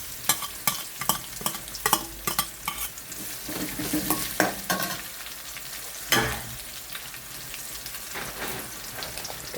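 Green chilies and crushed ginger frying in a pan, stirred with repeated sharp scraping clicks over a soft continuous sizzle, close and alone without talk.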